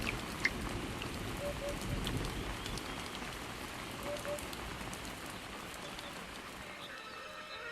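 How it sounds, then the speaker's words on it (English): Steady rain patters on the ground, a soft even hiss of drops, fairly quiet, with a faint bird call at moments. "But the rain was just a fleeting reminder of better times."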